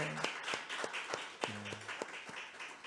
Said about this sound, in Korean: 우리 하나님께 영광 돌리는 박수.